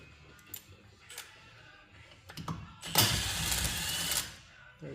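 A driver backs Torx T25 screws out of a Poulan Wild Thing chainsaw: a few scattered clicks and ticks, then a louder sustained scraping burst of turning mechanism near the end, close up with no talk.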